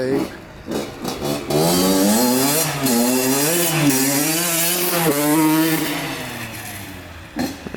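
A Honda CR80 two-stroke dirt bike fitted with a Keihin PWK 28 carburetor revs hard and loud up close, its engine pitch rising and falling in repeated blips over several seconds.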